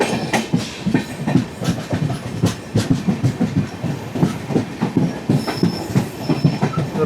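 The Okha–Ernakulam express rolls through Karmali station onto the loop line, its wheels clacking in a steady rhythm over rail joints with a thin squeal near the end, close and continuous.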